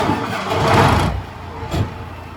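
A tractor engine starts at a horse barn with a loud, rough roar that swells and then drops away. A short second burst follows before it settles into a quieter running sound.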